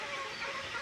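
Laying hens kept on a small backyard farm cluck softly and continuously throughout, a low steady flock murmur with no single loud call standing out.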